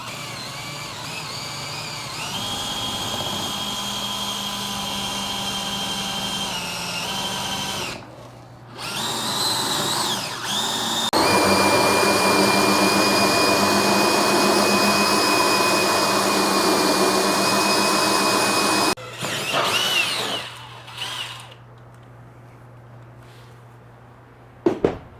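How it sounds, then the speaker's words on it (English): Power drill driving a hole saw through material during a diesel air heater installation, a loud whining motor running in long bursts with pauses, pitch shifting as the saw bites, then stopping near the end. "I'm going to drill using my hole saw."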